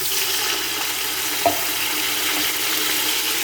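Frying onions sizzle loudly and steadily in a hot pan as water is added while cooking aloo matar pulao, a broad hiss with a brief splash or clink partway through.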